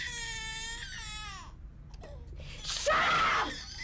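An infant wails in a long, wavering cry, pauses with gasping breaths, then bursts into a louder, shrill scream, close and unaccompanied in a PSA commercial.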